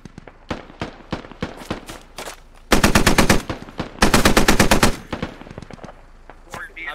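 A DShK heavy machine gun firing in the military shooter Squad, pounding out loud sustained rapid bursts with scattered single shots and shorter volleys around them, close and dominant.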